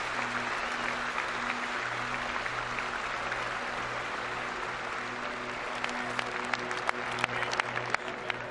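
A stadium crowd and teammates at a 1998 Virginia vs Virginia Tech college football game applaud an injured player, steady clapping over a low hum, growing sharper toward the end.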